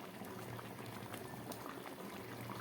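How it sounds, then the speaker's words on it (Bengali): Rice boiling in water in a pot while cooking pulao, with a close, steady bubbling and gurgling that stays even throughout, no voices. "জল দেবার পরে ফুটে উঠেছে ভাতটা।"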